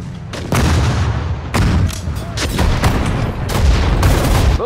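Artillery fire in the World War II strategy game Sudden Strike 4, during the Battle of the Bulge: repeated heavy booms and blasts crowding over one another in a loud, continuous barrage.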